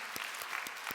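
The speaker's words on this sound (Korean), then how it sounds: "우리 하나님께 박수로 영광을 드리겠습니다" Congregation applause during a church worship service rises after a piano performance, heard as a short burst of quiet, rhythmic clapping.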